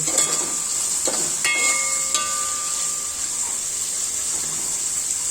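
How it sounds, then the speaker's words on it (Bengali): Spices fry in a pan for a bitter gourd dish, a steady, even sizzle with a few metallic clinks of stirring near the start. "মশলাটা ভেজে নিব আমি"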